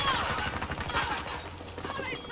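Gunfire in Battlefield 2042 comes as a dense burst of rapid shots and crackling impacts, loud and continuous across a couple of seconds, with a player's voice faintly mixed in.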